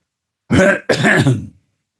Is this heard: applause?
no